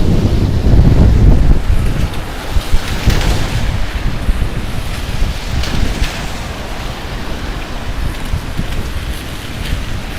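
Strong gusts buffet a rainy Manhattan street in New York City, a loud, continuous roar of wind noise on the microphone that is heaviest at the start, with no talking.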